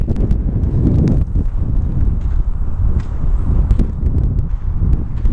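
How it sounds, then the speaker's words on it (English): Strong wind buffets the microphone continuously in Silver City, California, producing a loud, rumbling roar with gusty surges and no speech. "it's pretty windy today"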